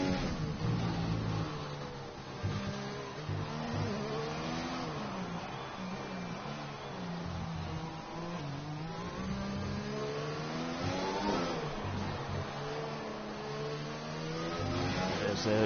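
Racing car on a lap at an MRC-X round in Mexico, its engine revving hard and climbing through the gears with steady rising pitch sweeps, loud and continuous for the whole stretch with no talk.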